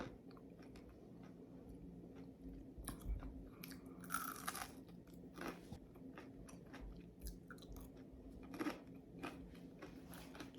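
Fried onion pakora being bitten and chewed, close crisp crunches coming in irregular bursts against a faint quiet background, with no talk.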